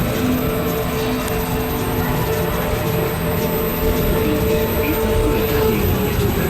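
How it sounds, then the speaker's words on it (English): Monorail train at the Italia in Miniatura park gliding along its track, a steady close rumble and whir with a continuous hum, constant in level and without clear voices. "Really like how the monorail stops above the entrance here as well"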